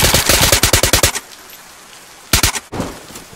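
Rapid automatic gunfire in the video game DayZ: a fast burst of about a dozen sharp shots, then a pause and two more loud cracks, with no voices.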